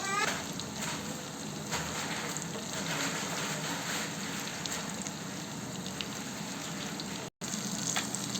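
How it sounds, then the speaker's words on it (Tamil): Fish frying in a pan crackles and sizzles continuously, a dense, steady hiss close up, broken by a brief silent gap near the end, while someone talks over it. "இப்போ பார்த்தீங்கன்னா மீன் நல்லா வெந்து வந்துக்கிட்டு இருக்கு ஃப்ரெண்ட்ஸ்"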